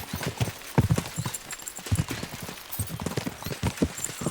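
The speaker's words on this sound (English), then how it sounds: "We should spur the horses on." Horses gallop in Kingdom Come Deliverance II, a steady run of close clip-clop hoofbeats that keeps its rhythm throughout with no speech.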